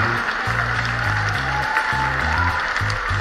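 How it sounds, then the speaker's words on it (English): A round of applause from the audience at a school Teachers Day show organized by students, dense steady clapping mixed with loud music that has a deep pulsing bass line. "Can we give them a big, big round of applause?"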